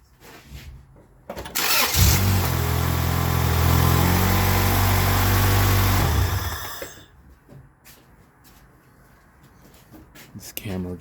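A cold engine in a 2000 Acura Integra with a blown head gasket cranks, starts and runs loudly and steadily for about five seconds, then shuts off, with quieter clatter and handling noises before and after.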